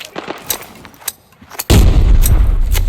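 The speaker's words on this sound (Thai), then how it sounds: "เพื่อนเพื่อนเรายิงกับใครอยู่สักคนนะ" In the shooter game Arena Breakout, scattered distant gunshots crack at first, then a sudden loud, sustained barrage of heavy gunfire booms close by.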